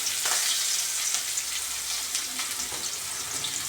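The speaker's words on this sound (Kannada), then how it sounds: "ಸಾಸಿವೆ ಚಿಟಾಪಟ ಅನ್ನೋದಾಗಿದೆ ಇವಾಗ ಈರುಳ್ಳಿ ಒಗ್ಗರಣೆ ಈರುಳ್ಳಿ ಕರಿಬೇವು ಇದ್ದೀವಿ" Onion and curry leaves sizzling in hot oil with a mustard-seed tempering, a steady close-up frying hiss with faint crackles and stirring throughout.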